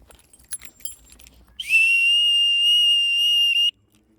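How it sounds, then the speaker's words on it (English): A loud, piercing whistle blown once in a single sustained blast of about two seconds to call dogs on a night walk, coming after faint rustling and footsteps. "Sorry about the whistle, it's quite loud."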